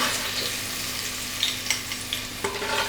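Onions frying in coconut oil in a pan, a steady soft sizzle throughout with a few brief clinks and stirring scrapes, fairly close and without talk.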